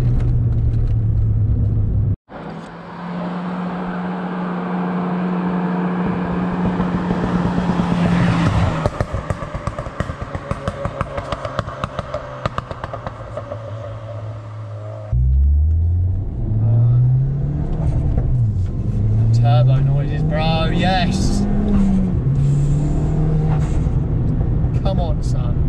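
A stage 3 tuned Ford Fiesta ST engine revs hard through several rising and falling sweeps, with boost building and crackling overrun between pulls; loud and close, with a voice talking over parts of it.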